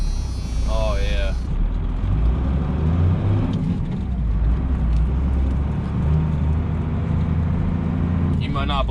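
Stock 12-valve Cummins diesel inline-six idling with a steady low rumble, loud and close, while people talk over it.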